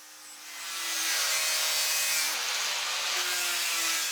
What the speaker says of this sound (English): Now I'll start grinding it and try and true it up.